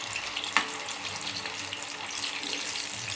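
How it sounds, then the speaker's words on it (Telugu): Moong dal fritters (pesara burelu) frying in hot oil, a steady close bubbling sizzle with a brief clink near the start, no talking. "చూడండి బూరెలు చక్కగా వేగుతున్నాయి"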